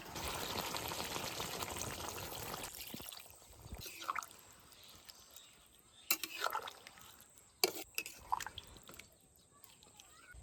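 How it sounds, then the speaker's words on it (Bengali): Water poured into a pan of Bengali chicken kosha curry: a soft, steady pour that fades into scattered drips and splashes, faint and close. "এবার একটু জল দিয়ে দেবো"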